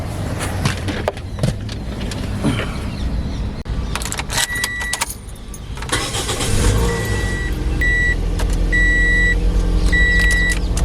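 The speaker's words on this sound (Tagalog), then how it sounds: "Buksan ko muna yung sasakyan." A car's engine cranks and starts after a jangle of keys and door clicks, settling into a steady low idle rumble that fills the rest of the moment, with no one talking.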